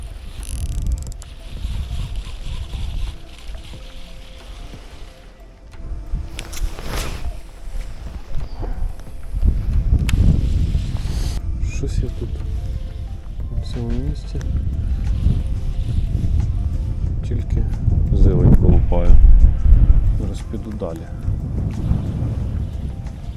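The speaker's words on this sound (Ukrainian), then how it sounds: "вітер вже шквальний" Strong, squally wind buffets the microphone in low roaring surges, rising and falling, with someone talking over it while pike fishing.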